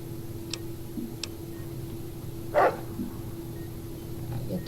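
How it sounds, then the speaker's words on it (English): Rex the dog barking in Fallout New Vegas, a single short bark near the middle, with a couple of faint ticks earlier over a steady game background hum. "Doggy."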